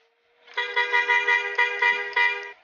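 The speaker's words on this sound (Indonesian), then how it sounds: "gua suka banget suara-suara klakson begini nih, kayak bus asli ya kan" A bus horn in Bus Simulator Indonesia blares in a long, steady, brassy chord, swelling in with a few rhythmic pulses in loudness as it sounds continuously for about two seconds, then cuts off.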